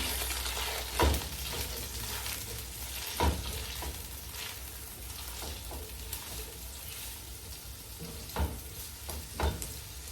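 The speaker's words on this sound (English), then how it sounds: "So we let our onions brown in a little bit for the nice coloration." Onions browning in hot oil in a pan, a steady soft sizzle broken by a few sharp clatters of stirring, close by and fairly quiet.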